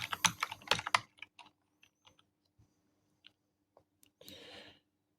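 A computer keyboard clicks in a rapid burst of keystrokes, then trails into scattered single taps with pauses between them, close and fairly quiet in a still room, ending with a brief rustle.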